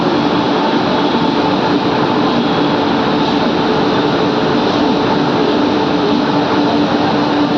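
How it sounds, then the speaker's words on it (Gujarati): A WAP7 electric locomotive hauling the Valsad–Dahod Intercity Express passes close by with a loud, continuous roar of wheels and rushing noise that never lets up. "WAP7 લોકોમોટિવ છે।"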